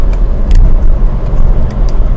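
1973 Porsche Carrera RS tribute with a 2.7 engine and 210 hp rumbling loudly and close on a cloudy São Paulo day, a steady deep engine roar with no talking.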